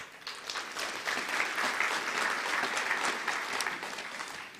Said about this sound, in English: I would like you to applaud our academics for that great work.